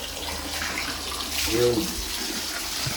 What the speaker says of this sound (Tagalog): Diba o, lakas o.